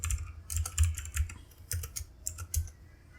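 Computer keyboard typing while writing code, quick irregular clusters of close key clicks with short pauses, fairly quiet and without talk.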